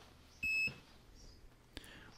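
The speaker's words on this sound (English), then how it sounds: "We've got a beep." A multimeter gives a single clear electronic beep on power-up in a garage during an ABS brake control module repair, a short steady tone followed by faint handling noises.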